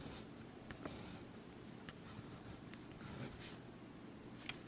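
Broad nib fountain pen pressed hard onto paper, giving a faint, close scratchy scrape with a few soft strokes and taps over quiet room hiss.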